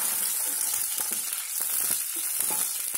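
Steady frying sizzle from a hot pan where a quarter glass of water goes in while making bread halwa, a dense hiss with light stirring scrapes and no voices.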